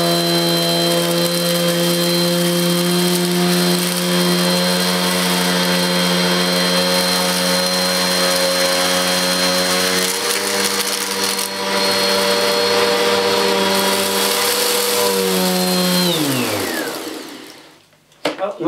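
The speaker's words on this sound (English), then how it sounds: "we'll just focus on the agitation of this Goblin upright" A Goblin bagless upright vacuum cleaner runs with a loud, steady motor whine and hum close by, which then winds down and fades out over the last couple of seconds.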